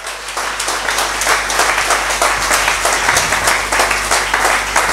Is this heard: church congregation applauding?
yes